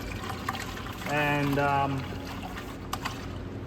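Pre-diluted 50-50 coolant glugs from a jug into a 2013 Dodge Avenger, a short gurgling pour of about a second over steady background noise in a garage.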